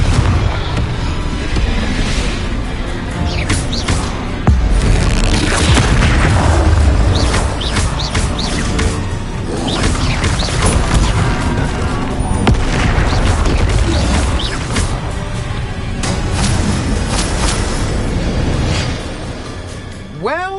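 Confringo blasting spells in the Hogwarts Legacy video game set off repeated loud booms and bursts in rapid succession, layered with game voices and background sound.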